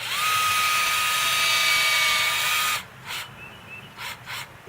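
A steady, high-pitched whine from a drill boring into a tree trunk at a 45-degree angle for a microinjection treatment runs for nearly three seconds and then stops, leaving faint intermittent sounds.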